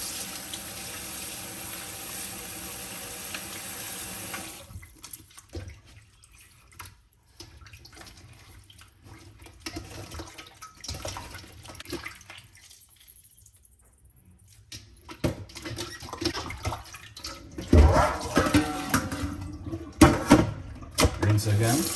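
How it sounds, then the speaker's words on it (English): Tap water runs into a kitchen sink while raw beef for a pot roast is rinsed with lemon, a steady splash at first, then quieter handling and water sounds, with a person talking at times. "First I'm going to start by washing my beef"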